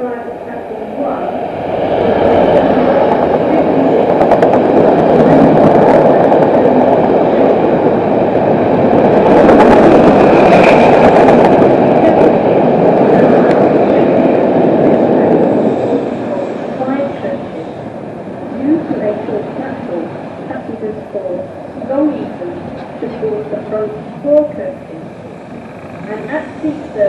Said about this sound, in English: The train now approaching platform 3 does not stop here.